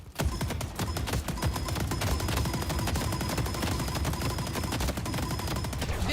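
Turrets in the video game Deadlock firing nonstop, a dense, loud rattle of rapid gunfire layered into a continuous barrage from start to finish.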